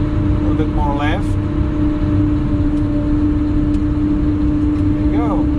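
A Prinoth Bison X snow groomer driving on its tracks, giving a loud, steady engine drone with a constant hum from inside the cab, while people talk briefly over it.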